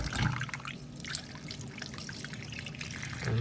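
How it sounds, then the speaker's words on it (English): Water pours and trickles steadily over butter beans, sweet corn and saltfish being rinsed for a Jamaican breakfast, a continuous close splashing flow that swells slightly at the end. "so get them rinse off. Rinse them off guys."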